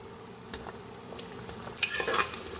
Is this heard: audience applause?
no